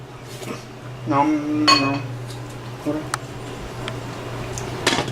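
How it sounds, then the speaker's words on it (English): A lid goes onto a pan of fettuccine alfredo with a few close metallic clanks and clinks of cookware, and a voice is heard briefly. "Now we just gotta throw a lid on this."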